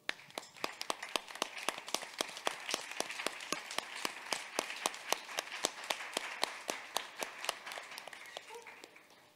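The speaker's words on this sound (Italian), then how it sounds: "a persone come lei vada ancora un grosso applauso" An audience at an evening campaign event claps in unison, sharp rhythmic beats repeating steadily at a quick, even pace, fairly quiet and distant, with a few faint voices near the end.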